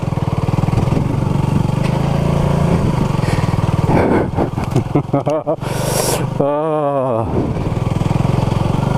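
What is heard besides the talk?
Honda CB250RS motorcycle engine riding a green lane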